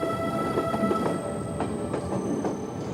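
A passenger train rolls along its rails, a steady close rumble with faint rhythmic clicks of the wheels and a few soft squeaks.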